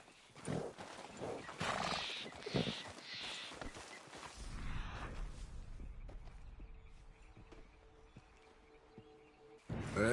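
A horse in Red Dead Redemption 2 clops along at a steady trot with rapid hoofbeats, then slows into scattered steps and gives a neigh, all close by with no talking.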